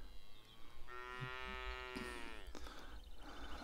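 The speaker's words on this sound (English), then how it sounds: "A nice cow there. Saying hello to us." A cow in the Azores countryside near São Mateus village on Pico Island lets out one long, clear moo, moderately close, heard alone over quiet outdoor ambience.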